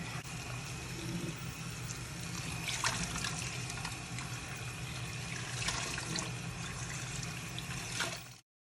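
Running water pours steadily from a kitchen tap over tabbouleh ingredients being rinsed clean, a continuous splashing rush with brief louder surges, heard close up with no talking.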